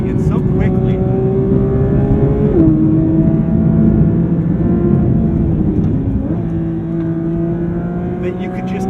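A 2022 Porsche 911 GT3 engine drones loudly and steadily from inside the car while driving, its pitch holding then briefly dipping and climbing again with gear changes, with no voices over it.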